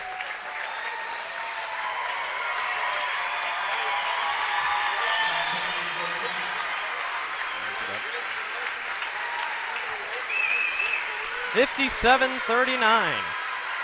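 Crowd at a girls' varsity basketball regional final applauds steadily under a commentator's voice, the clapping sustained and moderately loud, with sneaker squeaks near the end.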